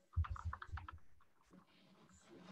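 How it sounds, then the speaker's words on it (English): Someone types on a computer keyboard during a square dance calling practice session, a quick run of close key clicks followed by quieter background sound. "that's my typing"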